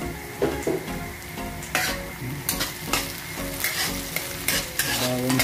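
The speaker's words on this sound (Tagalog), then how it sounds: "Isinog natin ang bawang guys." Garlic and chopped onion sauté in a pan for a cabbage stir-fry, a steady close sizzle broken by repeated scraping strokes of a spatula against the metal.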